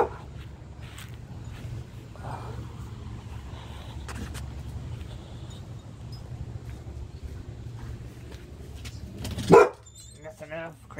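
A dog barking near a parked car, with a loud burst of barks toward the end over a low engine-like hum and quiet background.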